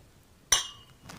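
Glasses clink once, sharp and near, in a mimosa toast at a Mums and Mimosas gathering, the bright ring fading quickly, followed by a soft murmur.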